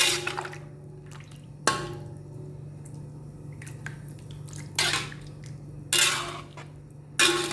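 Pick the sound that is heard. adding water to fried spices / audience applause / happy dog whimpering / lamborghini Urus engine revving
adding water to fried spices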